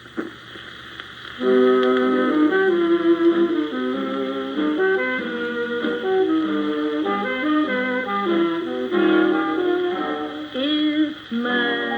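A 78 rpm record plays on a 1950s Symphonic RMA 351 record player. After a brief quiet start, music fills the room steadily and fairly loudly until the end.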